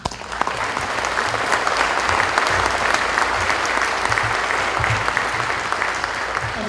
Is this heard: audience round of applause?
yes